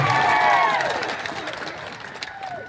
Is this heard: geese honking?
no